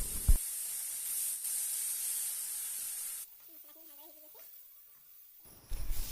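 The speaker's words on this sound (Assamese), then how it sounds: "মছলাখিনি জ্বলি নাযাবলৈ অকণমান পানী দিছোঁ" Water hits frying spices and black pepper powder in a hot wok, setting off a loud, hissing sizzle. The hiss stays steady for about three seconds, then drops away to quiet, with a faint voice and clatter.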